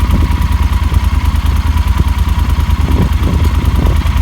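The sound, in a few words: 2019 Yamaha Super Tenere ES motorcycle idling in neutral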